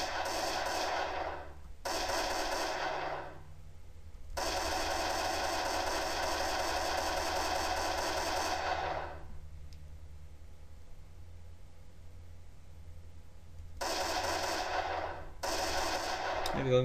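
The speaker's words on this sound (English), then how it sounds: "There's a gun in action as well." Bursts of rapid automatic gunfire from a Unity 3D first-person shooter game, coming in several sustained volleys separated by quiet gaps, loud and without talk.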